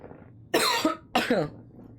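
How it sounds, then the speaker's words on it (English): Two loud, close coughs in quick succession from a player character in the horror game Moons of Madness, each a harsh burst followed by a softer rasp, with quieter low sounds between. "See, I make big, loud noises, and it makes me cough."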